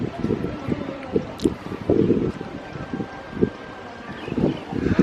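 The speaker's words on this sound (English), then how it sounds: "it is a bit windy up here, so I'm sure if you're getting any wind noise" Wind on a mountain peak at Pha Sorn Kaew Temple in Phetchabun, Thailand, buffets the microphone in low rumbling gusts that swell and fade irregularly, close and loud, with a faint tone in the background.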